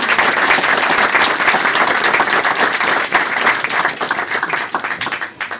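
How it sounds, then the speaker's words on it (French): Loud, dense applause with clapping from a crowd at a campaign office opening, sustained and steady throughout before tapering slightly at the end. "qu'on peut applaudir très fort"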